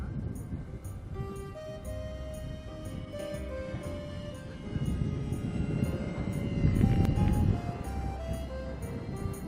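A small RC foam airplane flying at about half throttle, its electric motor giving a faint whining drone with shifting tones over outdoor wind rumble that swells louder toward the end.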